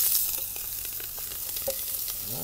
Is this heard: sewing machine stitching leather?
no